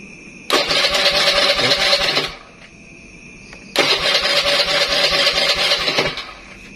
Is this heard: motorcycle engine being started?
yes